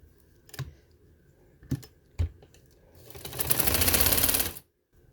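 A sewing machine stitches piping onto a fabric neck design: a few sharp clicks, then one close, steady run of rapid stitching lasting about a second and a half before it stops. No one speaks.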